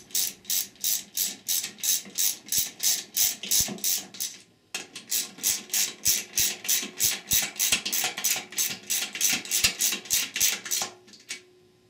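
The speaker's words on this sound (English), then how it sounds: "Use a 13 millimeter socket, extension, and ratchet to tighten them lightly." A hand ratchet with an extension and 13 mm socket snugs down bolts on a Ford E4OD/4R100 transmission, giving quick regular clicking strokes in two runs with a short break, close and clear.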